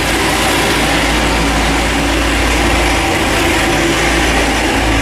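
A Chevrolet Camaro ZL1 with a new short block runs hard on a dyno at about 15 psi of boost on pump gas, producing a dense, loud, unbroken engine roar with no voices.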